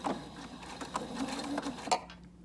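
Sewing machine stitching a few stitches forward and then back to lock them, a short, quiet mechanical whir with light rhythmic clicks, close by, ending abruptly.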